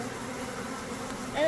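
A swarm of honey bees buzzes thickly around a hive during a net swarm capture, a continuous close hum that swells slightly louder at the end.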